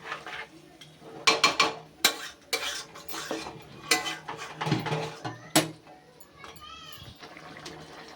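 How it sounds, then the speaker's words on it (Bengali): Chicken pieces being stirred in a pan with onion, ginger and garlic paste for a chicken curry, irregular scraping and clattering of a utensil against the pan in short bursts, with quiet sizzling between strokes. "পেঁয়াজ, আদা, রসুন মাংসটার সাথে ভালোভাবে মিশিয়ে দিচ্ছি।"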